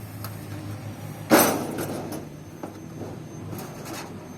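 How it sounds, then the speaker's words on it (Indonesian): A weeding attachment is clamped onto a power weeder, a sharp metallic clank followed by a few lighter clicks and taps of the fittings, close by in an otherwise quiet workspace. "Kemudian alat matunnya kita pasang dengan cara seperti ini. Kita klemkan seperti ini."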